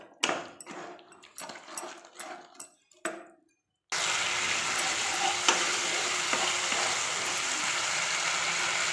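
Spice masala with salt frying in a pan, a few scraping stirs at the start followed by a steady, loud, continuous sizzle with no talking.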